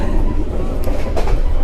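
Aboard the Airlangga economy passenger train running from Surabaya to Jakarta, a loud, continuous low rumble of the moving carriages with faint rattles and clicks over it.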